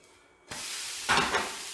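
A chicken dosa is flipped onto a hot pan and breaks into a sudden sizzling hiss, which swells louder about a second later and keeps crackling.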